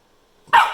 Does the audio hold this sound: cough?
no